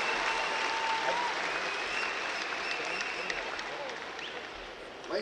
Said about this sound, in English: a nice round of applause for your Oregon Wrestling Hall of Fame members